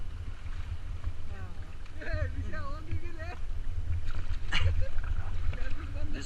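A river rafting boat moving on rushing water near Shivpuri in Rishikesh, a constant broad water and wind rush with people shouting and talking over it.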